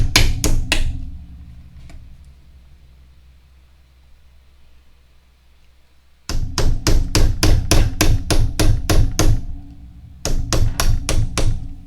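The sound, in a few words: hammer punching holes in a tin can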